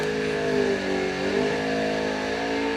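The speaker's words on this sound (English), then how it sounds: "Gage in and out of the throttle very early." A drag race car engine at a winter warmup event revs loud and close, surging up and easing back as the driver goes in and out of the throttle, a continuous droning roar with wavering pitch.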